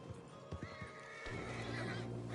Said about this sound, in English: Marston, you're gonna tether him up to Javier's horse